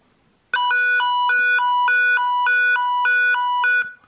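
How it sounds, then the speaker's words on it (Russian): A 9561 toy sound signal module plays an ambulance siren, a loud electronic two-tone warble alternating rapidly and evenly for about three seconds before cutting off. "Это сигнал скорой помощи."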